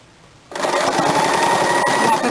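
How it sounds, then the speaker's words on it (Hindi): Sewing machine stitching the side seams and armholes of a lined blouse, starting abruptly after a quiet moment and then running at a steady, continuous whir close by. "अब हम लगातार दूसरी तरफ के भी साइड सिलाई कर लेंगे।"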